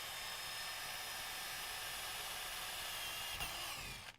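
A power drill whines steadily and close while boring a hole during a blast gate install, the high buzzing holding level before winding down at the end.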